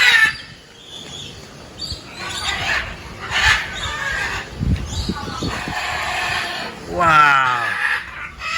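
Chickens cluck and call at a pig farm in Chiayi, Taiwan. Scattered squawks and a rising crow-like call are heard close by, mixed with bits of human voices.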